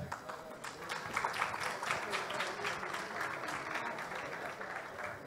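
An audience at a sanitation conference panel in Rio applauds steadily, with many hands clapping in a full, sustained burst heard from within the room. A little voice activity comes through underneath.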